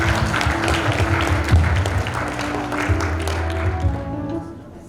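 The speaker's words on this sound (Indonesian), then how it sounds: "Berikan tepuk tangan yang paling meriah sekali lagi untuk Kak Ririn" Applause fills a hall at a graduation ceremony for accounting students, steady, dense clapping from a large audience that holds at a strong level and fades slightly at the end.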